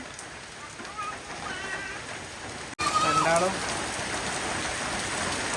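Steady rain falls in Kerala, a continuous dense patter on surfaces throughout, with people speaking briefly over the downpour.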